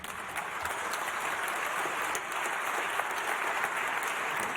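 A large audience at an academy centenary ceremony gives sustained applause, a broad continuous patter of clapping that holds steady at a moderate distance.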